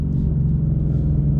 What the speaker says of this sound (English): How about that exhaust note?